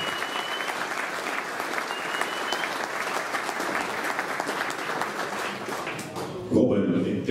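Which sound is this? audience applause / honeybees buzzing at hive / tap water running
audience applause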